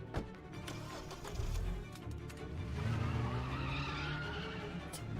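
A car skids and drives in the Wheelman video game, with engine drone building under a drawn-out tire squeal that swells through the middle and eases off, fairly quiet and with no talk.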